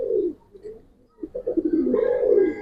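A pigeon kept for sale with other fancy breeds coos close by: a short low coo, a pause, then a longer run of rolling throaty coos.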